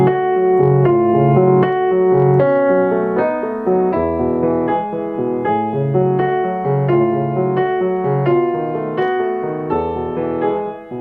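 Solo piano plays slow practice passages from Chopin's Fantaisie-Impromptu, Op. 66, steady and close, with sustained chords and separated notes and no talking.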